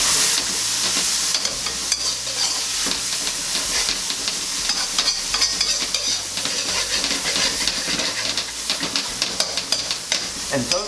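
Chives stir-fry in a wok with a loud, continuous sizzle and hiss, broken by scraping stirs as they are tossed around the pan.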